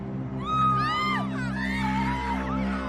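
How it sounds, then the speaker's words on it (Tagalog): Several people scream and shout outside in a panic, overlapping cries rising and falling over a steady low hum, fairly distant and continuous for a few seconds. "At doon na namin narinig ang hiyawan ng mga tao sa labas"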